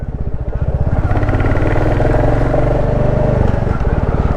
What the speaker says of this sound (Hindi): अभी मुझे जो है सेकंड गियर से मुझे फर्स्ट गियर में आना है